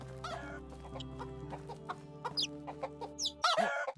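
Chickens cluck repeatedly at close range in Medieval Dynasty, a string of short clucks over a low steady game hum, growing louder near the end.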